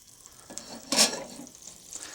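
Food sizzling in a pan of hot extra virgin olive oil and butter, a soft steady frying hiss with a brief louder burst of spitting partway through.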